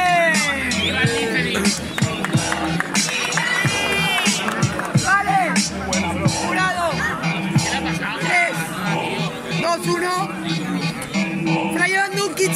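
A rap battle audience roars nonstop, with dense shouting, cheering and whistling from a packed crowd that stays loud and chaotic throughout, with voices calling out over the din.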